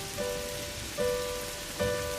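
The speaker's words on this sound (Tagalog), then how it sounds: "ngayon, ito, napakalakas ng ulan." A steady downpour of heavy rain in Canada fills the scene, a constant loud wash of drops with a soft electronic tone faintly repeating beneath.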